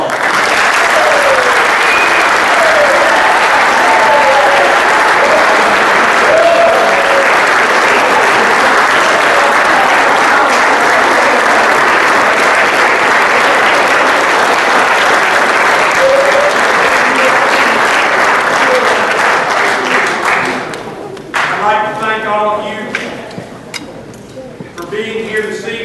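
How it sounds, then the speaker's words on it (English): An indoor crowd at a high school football banquet applauds the seniors in loud, dense, sustained clapping for about twenty seconds, which then thins into scattered claps. "I'd like to give our seniors a round of applause."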